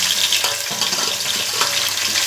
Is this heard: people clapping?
no